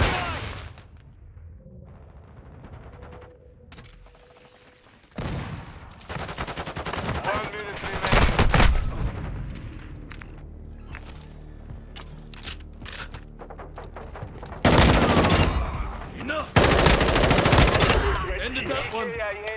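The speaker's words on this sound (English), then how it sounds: "Taking enemy fire." Heavy gunfire in the Call of Duty video game, with bursts of automatic fire and sharp single shots that come and go, loud and close, over a busy battlefield din.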